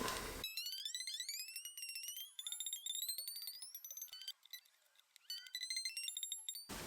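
A plucked string on a 1949 Harmony Stella guitar rings thin and bright, its pitch sliding upward several times as it is tuned a half step down, with repeated plucks in between.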